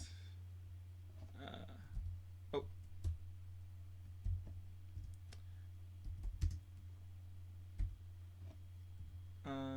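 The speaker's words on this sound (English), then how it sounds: "Have to be quiet while I'm typing" Someone types on a computer keyboard in scattered bursts of sharp clicks and key taps, close and quiet, over a low steady electrical hum.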